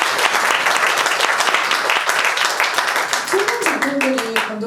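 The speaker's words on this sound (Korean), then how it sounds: "박수 부탁드릴게요." Loud, sustained applause from a cinema audience at a film screening Q&A, dense clapping throughout with a voice starting to speak near the end.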